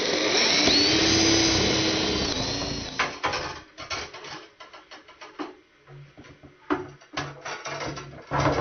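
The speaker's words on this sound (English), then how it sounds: "Drill 2 holes the size of the pipe for the inlet and the outlet on the side of the panel." A power drill whines loudly and steadily at first, then breaks into short, stuttering bursts of grinding as it bores holes through the side of a solar heating panel, with brief pauses between.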